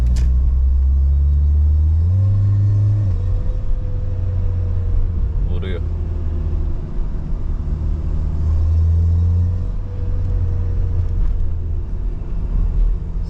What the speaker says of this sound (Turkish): Araba vuruyor gibi ya.